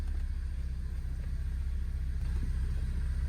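A cheap dual-clutch Ford Focus with an overheating problem and no reverse, idling: a steady low engine rumble that stays constant throughout, with no revving.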